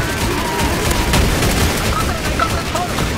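Dense, continuous gunfire rattles and booms in a Counter-Strike: Source Zombie Escape match, loud and unbroken throughout, with voices mixed into the din.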